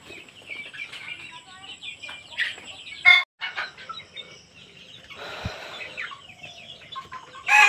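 Roosters at a poultry lot after a fifty-five-day grow-out, clucking and calling in short bursts with one louder crow-like cry midway, birds near and continuous throughout.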